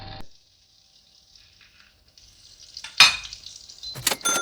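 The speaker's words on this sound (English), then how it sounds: "You fry the sandwich at low heat." A salmon sandwich dipped in beaten egg frying in a pan over low heat, a soft steady sizzle with a clatter of utensils against the pan and a few sharp scraping knocks near the end.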